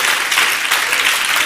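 Loud, steady applause from a church congregation during a sermon, a dense continuous wash of clapping close and filling the space for the whole moment.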